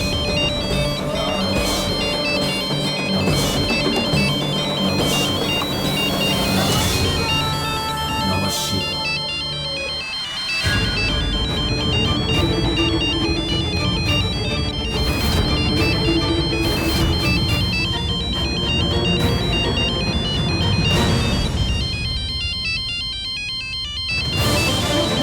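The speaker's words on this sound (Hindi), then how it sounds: "ये तो रूपा जी का फोन है, तेरे पास कैसा आया?" A mobile phone ringtone plays loudly and continuously, a bright repeating electronic melody that cycles through its pattern with brief breaks, dominating the scene throughout.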